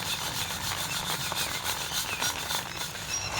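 Broken urad dal (black gram) being sieved for idli batter gives a steady, continuous dry rubbing and rasping, with grains scraping across the mesh at close range and no talk over it.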